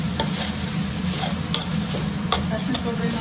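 Ingredients for nellikayi chitranna, an Indian gooseberry rice dish, roast in a pan with a steady low sizzle and a few sharp ticks from stirring, close and fairly even throughout.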